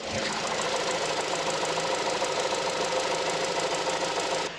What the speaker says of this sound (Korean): 엔진룸 열어놨는데요 엔진 소리 한번 들려드릴게요